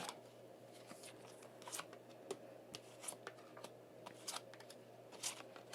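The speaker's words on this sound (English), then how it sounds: "I love how your cards are just flying out" Tarot cards being shuffled, with quick riffling bursts and soft slaps as cards fly loose, close and fairly quiet against a steady low hum.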